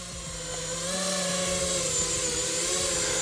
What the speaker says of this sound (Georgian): ავწიოთ დრონი და შევეცადოთ გავაჩეროთ ერთ სიმაღლეზე